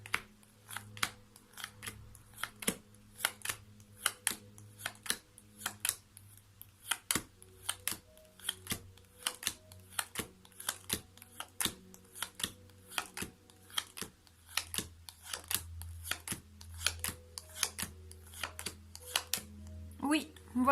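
Tarot cards are cut and shuffled close by, a long run of sharp, regular slaps and riffles, with a low background hum throughout.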